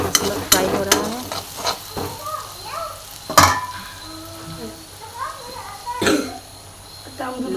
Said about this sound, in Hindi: मसाला फ्राई हो रहा है।